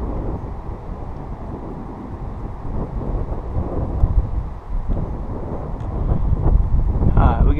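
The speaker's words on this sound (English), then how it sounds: "Let's wait for that wind to die down a second." Cold outdoor wind buffeting the microphone in a continuous low rumble that builds toward the end, with occasional faint voices beneath it.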